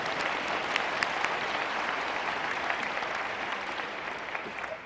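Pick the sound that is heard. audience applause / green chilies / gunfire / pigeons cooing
audience applause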